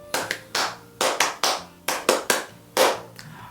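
Ippon-jime, the Japanese ceremonial hand-clapping ending to a drinking gathering: a small group claps in unison in a short rhythmic pattern, crisp sharp claps grouped in threes and a final single one, close and clear with no talk.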